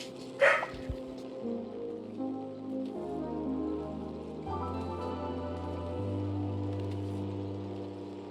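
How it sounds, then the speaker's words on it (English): Dogs barking indoors: a sharp close bark near the start, then softer scattered barks over a low steady drone of game music and ambient tones. "I had my doggies doing some barking"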